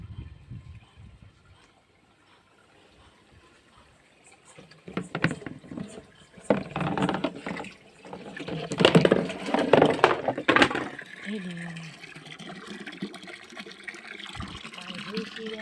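Running water on a farm, splashing and gushing in uneven bursts that grow louder midway, with people talking nearby.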